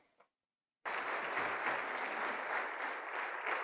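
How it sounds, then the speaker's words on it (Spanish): A church congregation claps steadily and loudly after a brief moment of quiet, the applause continuing without pause to the end. "dele palmas a Cristo"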